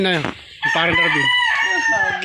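A rooster with feathered feet crows once, loud and close, its long call stretching out, with a brief voice in the background.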